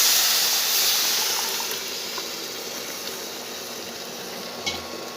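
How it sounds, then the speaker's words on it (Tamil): Boiled moong dal with its cooking water poured into roasted rava in a pan for rava pongal, giving a loud hissing sizzle that settles into a steady bubbling under stirring, with no talk. "இப்போ வேக வச்ச பாசி பருப்பு தண்ணியோடு சேர்த்துடலாங்க."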